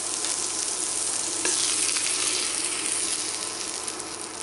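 A steak sizzles steadily in a hot pan, a dense continuous frying hiss with slight crackles, close up and alone.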